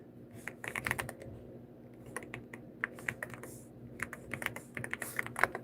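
Continuous typing on a computer keyboard, a steady run of close, light key clicks with small bursts and brief pauses, no voices.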